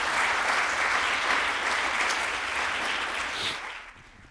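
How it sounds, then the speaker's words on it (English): An audience at a university lecture gives a professor a sustained round of applause, loud and dense, fading out in the last second. "let's give the professor another round of applause"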